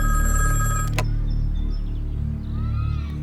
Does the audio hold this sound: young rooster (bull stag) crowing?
no